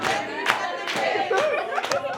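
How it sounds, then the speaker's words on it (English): A group plays a children's circle game, clapping hands as they move around. A few scattered, uneven claps ring out over a background of chatter and voices. "Clap your hands together."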